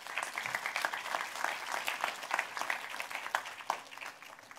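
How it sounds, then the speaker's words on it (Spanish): A church congregation applauds in a dense, continuous wash of claps that holds steady for several seconds, heard from a distance in a large room and moderately quiet. "Den un aplauso al Señor por ello."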